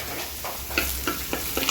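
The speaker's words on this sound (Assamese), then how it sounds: "এইফালে পিঁয়াজ দিছোঁ, অলপ তেলতে 5 ফোৰণ জলকীয়া দি দিছোঁ।" Onions frying in a little oil with five-spice and chilli give a steady low sizzle, broken by several soft scrapes and stirs of the spatula.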